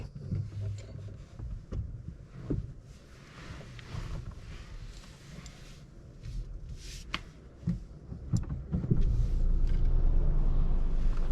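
A learner driver's car pulls away from the kerb during a driving test, a steady low engine rumble building toward the end with some wind buffeting, no talk.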